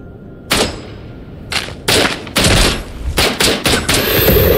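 Pistol fire from a Glock in the VR shooter Into the Radius: bursts of sharp, loud shots in quick irregular clusters, some overlapping, over a steady rumbling background.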